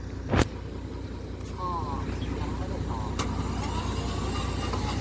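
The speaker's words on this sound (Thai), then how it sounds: "โอ้สตาร์ท บิดกุญแจด้วยนะคะ" A combine harvester, just delivered by trailer, is started with the key: a short sharp burst, then the engine catches and settles into a steady, close mid-pitched running drone, with a voice faintly present.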